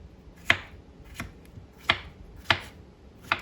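Sharp knife chops through cantaloupe on a cutting board, five crisp strikes in an uneven rhythm, close and clear with quiet gaps between.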